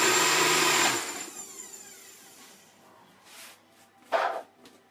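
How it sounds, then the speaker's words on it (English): A blender whirs loudly through cashew cheese with spinach for about a second, then cuts off, leaving quiet kitchen handling and a brief clunk. "So, blend that up."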